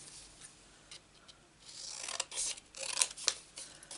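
Scissors cutting paper lace die pieces for a card, faint close snips and rustles that grow more frequent and louder in the second half, with a couple of sharp clicks.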